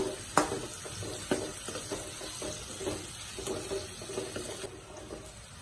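Okra (bhindi) with a little salt slowly roasting in a pan over a low gas flame, giving a steady soft sizzle broken by irregular scraping clinks of stirring, close and moderately quiet, with no talking.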